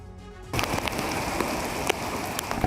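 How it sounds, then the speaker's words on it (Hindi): Heavy monsoon rain pours down in Mumbai, a dense, steady hiss of drops hitting surfaces that starts abruptly after a quiet moment and carries on loud and continuous with occasional sharper splashes. "सुबह से ही कई शहरों में तेज बारिश हो रही है।"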